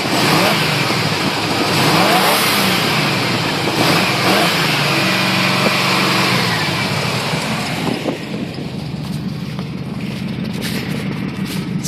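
1987 Chevy Silverado V8 with dual Flowmaster exhaust and chrome tips revving up and easing back, a loud, close, throaty engine rising and falling in pitch with no talk over it.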